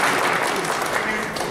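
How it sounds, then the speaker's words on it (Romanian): Audience clapping in a county library hall during a painting exhibition opening, a brief dense burst of applause filling the room, with voices faintly mixed in. "se cheamă Marlena Farugia, pe care trebuie să o aplaudăm."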